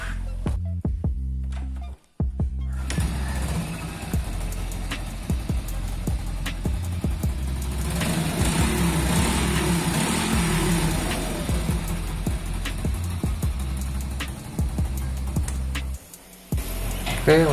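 A Honda Astrea Grand motorcycle engine idles steadily up close, a continuous low rumble with a brief cut-out near the start and a slight rise in the middle.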